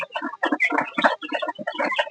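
Chickens cluck close by in quick, busy bursts at night while drinking water, several birds calling over one another without pause.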